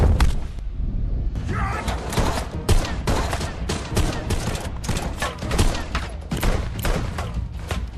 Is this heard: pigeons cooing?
no